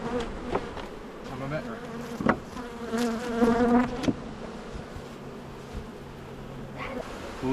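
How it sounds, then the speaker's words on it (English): Honeybees buzz around an open beehive in a garden, a continuous close drone with individual bees passing near, plus a few light knocks and rustles, and no speech. "Look at all these bees."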